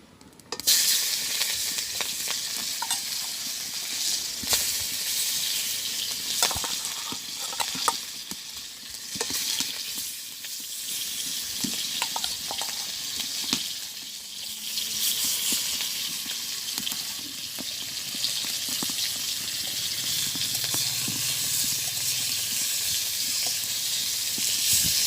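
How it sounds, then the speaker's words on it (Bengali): Hilsa fish sizzling and frying in hot oil in a pan in a village kitchen, a steady loud hiss throughout with occasional clatters and stirring sounds. "তেল গরম হয়ে গেছে, আমি এখন মাছটা দিয়ে দিচ্ছি।"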